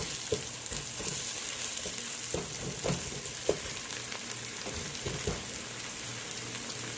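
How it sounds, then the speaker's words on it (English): Big pieces of onion sizzling and frying steadily in a pan, a continuous crackling hiss with occasional stirring sounds and no talking. "I'm just obsessed with onions. So I'm going to cook it a little bit."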